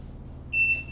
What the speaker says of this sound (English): there's the beep, which says what?